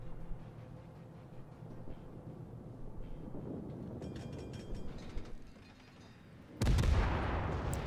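Heavy naval guns boom in World of Warships while the Leningrad, a tier 7 destroyer, fires at an island. Rumbling mechanical battle noise runs throughout, then a loud, sharp broadband blast lands near the end and holds.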